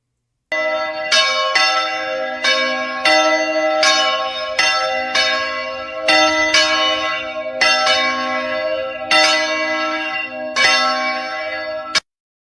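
Church bells ring loudly and close, with a regular series of about a dozen struck tolls whose long, overlapping hum hangs between strikes before cutting off abruptly.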